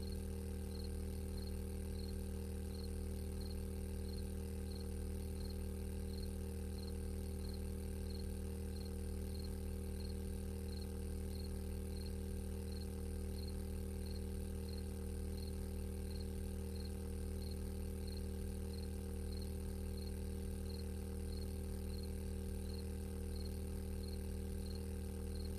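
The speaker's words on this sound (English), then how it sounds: "The crickets are sounding already." Crickets chirping at night in the game 7 Days to Die: a steady, evenly pulsed high chirp repeating throughout over a constant low ambient hum, faint and continuous with no voices.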